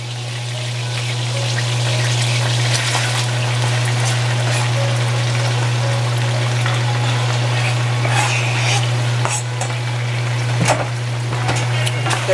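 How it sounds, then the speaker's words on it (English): Vegetables go into a simmering Asian lamb stew pot, producing a steady bubbling, sizzling wash with scattered wet clatters and stirring sounds over a constant low hum. "Now I'm going to add the vegetables."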